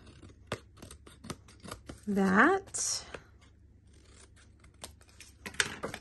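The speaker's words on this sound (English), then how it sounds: "Grab your scissors and trim" Scissors trimming paper for a handmade side-step light-up card, with a run of close, sharp snips and cuts, a brief rustle of paper in the middle, and a voice talking quietly over them.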